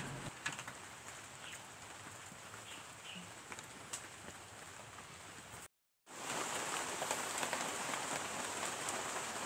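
Steady rain pours down on a small rural farm where laundry hangs outside, a dense continuous hiss of drops with faint bird calls, broken once by a brief cut to silence before resuming.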